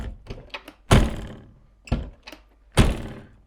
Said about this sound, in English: That is now a door that is unlocking as it should, and locking as it should.